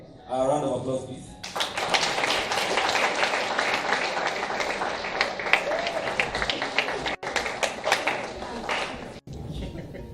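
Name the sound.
audience applause at moot court competition finals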